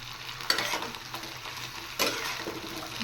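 Chopped okra and onion frying together in a pan, a soft crackling sizzle with two sharper bursts as the pieces are stirred, no speech.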